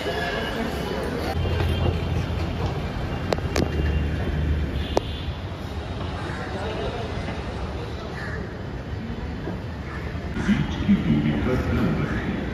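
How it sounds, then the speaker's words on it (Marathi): Ambience at Andheri metro station in Mumbai: a steady, busy station rumble with crowd babble and faint clanks, alone without nearby speech. "हे बघू शकता तुम्ही, अंधेरीचं मेट्रो स्टेशन आहे"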